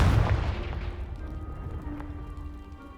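A loud fiery blast from the Confringo spell in Hogwarts Legacy hits at once, then its heavy boom rumbles and fades slowly over a few seconds.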